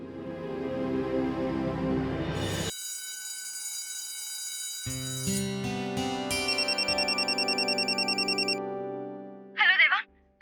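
A telephone ringtone sounds in a Hindi TV drama scene: melodic electronic tones with a repeating, pulsing ring pattern layered over background music, ending in a brief warbling chime.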